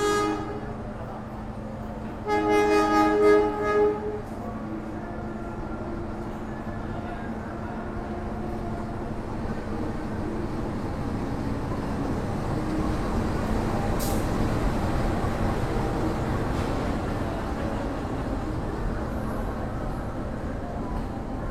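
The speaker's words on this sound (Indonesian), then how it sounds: "kereta yang baru saja masuk di jalur 2 itu adalah kereta api Probowangi ya teman-teman" A Probowangi passenger train pulls into Jember station in the evening, sounding a short horn near the start before a long, steady rumble of rolling wagons and brakes hisses faintly toward the end, with light chatter in the background.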